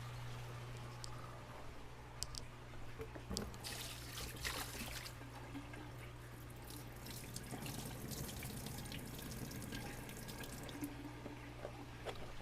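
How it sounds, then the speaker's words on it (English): Water is being emptied out of a saltwater predator fish's container, a steady trickling, splashing flow that runs continuously at close range with no talking. "I have to empty out some of that water for sure."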